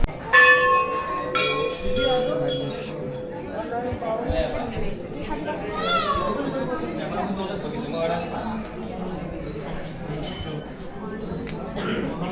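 Bells ring at a Hindu temple hung with many votive bells, clinking and chiming in a busy, lively space while people talk and chatter close by throughout.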